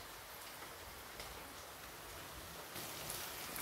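Rain falls as a steady, faint, even hiss that swells slightly toward the end, with no other sounds over it.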